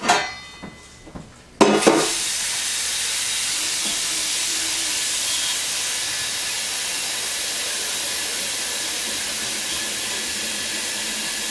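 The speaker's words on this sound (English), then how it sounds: "Let's throw some water in it and see if it leaks." Water from a hose gushes into a homemade mash tun built from a cooler, starting after a few light knocks and becoming a loud, steady rushing hiss that continues unbroken.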